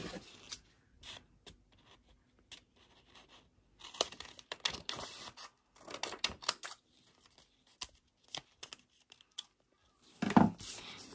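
Scissors snip through folded paper for a corner bookmark in a series of short, close, crisp cuts with quiet pauses between bursts, plus light paper rustling and a louder crinkle near the end.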